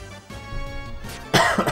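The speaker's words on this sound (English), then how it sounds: "I'm at the tail end of an illness, so you may hear me coughing quite a bit" A person at the tail end of an illness coughs close to the microphone, with a couple of sharp, loud bursts near the end preceded by quieter throat noises.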